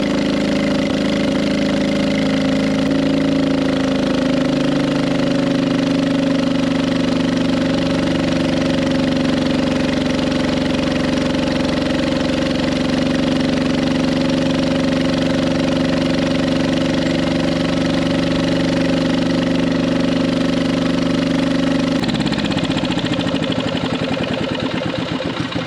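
A small engine from a collection of sea, land and air engines runs steadily for about 22 seconds with a loud, even drone, then cuts off and winds down to near silence at the end.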